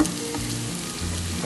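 Sliced onion sautés in a pan, half-softened, giving a steady close sizzle with a low background hum and occasional soft stirring sounds.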